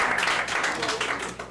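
A theater audience at a French-language reading contest on stage applauds, a dense continuous wash of many hands clapping at steady loudness for the whole stretch.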